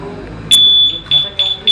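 Car alarm being armed by remote, several short piercing electronic beeps in an uneven sequence, close and loud, with a person talking nearby.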